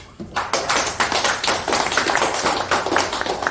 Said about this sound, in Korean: 이 어부들에게 우리 박수 한 번만